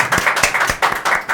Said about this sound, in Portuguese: E os aplausos da nossa audiência.